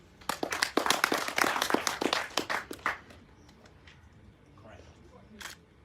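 A small group claps for themselves at a launch event, with brisk close claps for about three seconds that then stop abruptly, leaving a quiet room with a few faint knocks.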